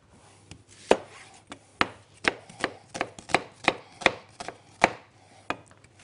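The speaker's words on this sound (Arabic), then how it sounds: "احنا كده بنقطع الاثنين" A knife chops onion and other ingredients for a shrimp pizza on a cutting board. Sharp, crisp strikes come about twice a second at an uneven pace, close and alone.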